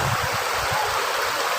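Water at the source of a Y-shaped river flows in a steady, close, continuous rush, broadband and even throughout with no voices over it.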